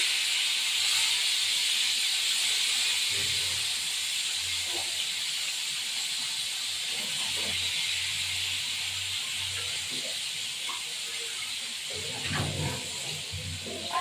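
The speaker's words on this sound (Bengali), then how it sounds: "পাঁচটা মাছই ভাজা করবো।" Fish sizzling as it fries in hot oil with salt and turmeric, a steady bright hiss lasting throughout, with faint kitchen handling noises underneath, close and continuous.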